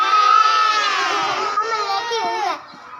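A preschool class of young children imitates a goat, voices blending into a loud, wavering group bleat that holds for a few seconds before trailing off.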